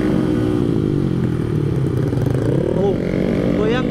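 A Honda Beat 115cc scooter engine and exhaust with a loose exhaust, running loud and continuous nearby with a steady rumbling drone, while a voice briefly speaks over it.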